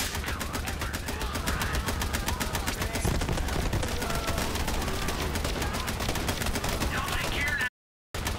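Rapid gunfire in the video game Borderlands 3, dense repeated automatic shots and bursts in a fast rhythm that stays loud throughout, with a brief silent gap near the end and speech underneath.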